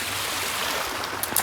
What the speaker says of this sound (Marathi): जोरात पाणी एकदम निघायला लागला.